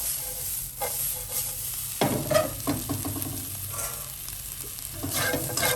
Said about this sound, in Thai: ใส่ซีอิ๊วขาว ใส่น้ำมันหอย น้องก็ทำข้าวผัดอร่อยค่ะแห้งดี